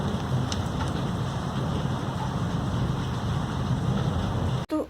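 Heavy rain falls in a dense, constant roar of drops on surfaces, close and loud, with a low rumble underneath and a sudden brief dropout near the end.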